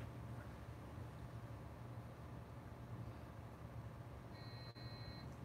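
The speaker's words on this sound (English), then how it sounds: "So you just heard the beep." A short electronic beep chimes twice in quick succession over a steady low mechanical hum, fairly faint against the background drone.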